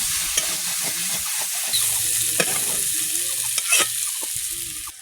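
Raw pumpkin slices fry in a pan with a steady, close sizzle, interrupted by brief scrapes and stirs of a spatula. No one speaks.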